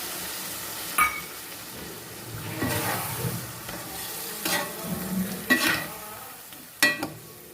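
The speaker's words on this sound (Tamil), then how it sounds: "புளி கரைசலை கரைச்சி வச்சுருக்கோம் அதை விட்டுக்குவோம்" Tamarind water poured into a sizzling bitter gourd tamarind curry in a pan, giving a steady frying hiss broken by several sharp splashy bursts as the liquid hits the hot oil.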